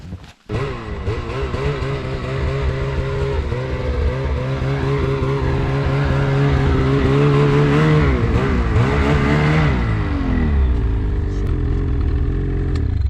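A snowmobile engine climbing a snowy mountain slope roars loud and continuous at close range. Revs build and waver as the throttle is held open, after a brief thump at the start.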